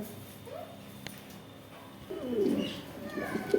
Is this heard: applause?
no